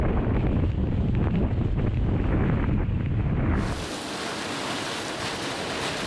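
Strong gusting wind buffets the microphone on an exposed Scottish mountain in winter, a loud continuous roar that drops to a steadier, quieter rush partway through.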